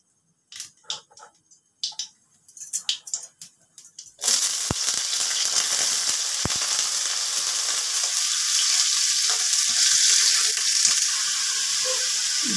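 Chopped water lily stems hitting hot oil with cumin in a pan for shapla koura, bursting into a loud, steady sizzle after a few soft clinks and stirring taps, continuing unbroken to the end.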